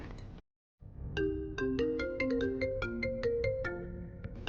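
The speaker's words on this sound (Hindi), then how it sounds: "फोन आया तुम्हारा, सुन लो।" A melodic phone ringtone plays a repeating sequence of bright electronic tones, loud and close, starting after a brief silence and continuing steadily.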